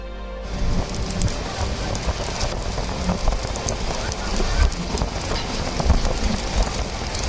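A train rumbles along steadily, its wheels clattering in an uneven rhythm over the track, loud and close with a constant roar beneath.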